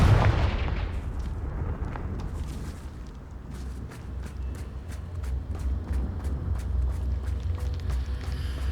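A Confringo blasting spell explosion in Hogwarts Legacy: a loud booming blast at the start that rumbles and fades, followed by a run of sharp, evenly spaced cracking impacts over a low rumble.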